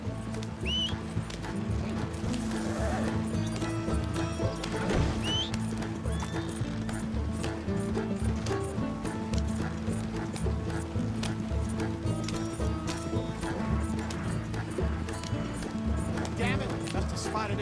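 Stagecoach horses gallop in Red Dead Redemption 2, a steady, loud clip-clop of hooves with occasional whinnies running throughout, layered with game music and ambient sound.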